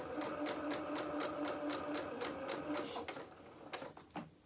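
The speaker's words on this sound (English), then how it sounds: "then we're going to put this into the sewing machine, and we are going to be sewing again 1/4 inch seam allowance." A sewing machine stitches a quarter-inch seam on fabric for a doll's cap, running in a rapid, steady mechanical rhythm up close, then slowing and stopping with a few separate clicks and knocks at the end.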